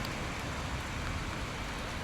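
Heavy rain pouring down in a storm, a loud, steady, close hiss of downpour that continues unbroken, with no talking.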